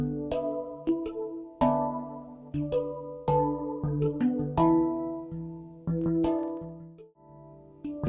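Plucked, chord-like instrument phrases played through a Green Oak Software chorus plugin with feedback turned up, giving a thick, shimmering, modulated tone with steady rhythmic attacks.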